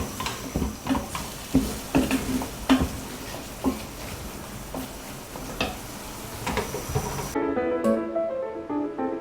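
Tofu sauce simmering over low heat in a pan for Chinese-style fried tofu, with soft irregular scrapes and taps of stirring over a faint bubbling sizzle, ending in a quieter tonal stretch.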